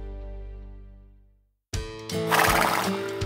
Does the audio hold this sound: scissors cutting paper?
no